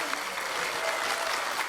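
Steady, dense applause from a studio audience on a television talk show, a continuous wash of clapping close to the microphone with faint voices underneath.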